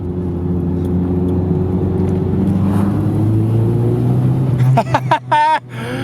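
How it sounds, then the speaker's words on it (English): A car engine accelerates at full power, its droning hum building steadily under a faint voice, then a quick burst of rising and falling whines near the end as gears change. "I've never felt this car at full power before"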